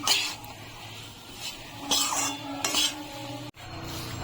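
Gram flour roasts in a pan over a low flame, soft quiet sizzling under intermittent scrapes and knocks of a stirring utensil against the pan, close by, with no voices.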